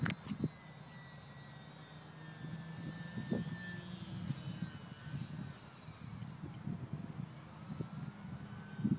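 A small E-flite UMX Sbach RC plane motor runs at low throttle on a windy day, a steady faint whine with a few thin tones, fairly distant and alone, with no talk.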